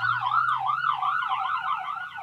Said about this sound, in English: Okay, ambulance has passed.